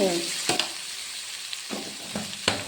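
Sliced okra frying in oil in a pan gives a steady sizzle, broken by several sharp spatula clacks and scrapes close by, with no talking.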